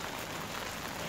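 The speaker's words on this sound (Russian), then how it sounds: "Проснулась утром, а на улице льет дождь." Steady rain pouring down outdoors on a cold morning, a dense even hiss of drops filling the short moment with no voices over it.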